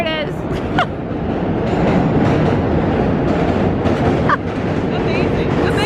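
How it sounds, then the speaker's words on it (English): A subway train rumbles over the Manhattan Bridge in New York, a loud, continuous roar with rhythmic wheel clatter and a few brief metallic squeals, heard from close by underneath. "Here comes the train."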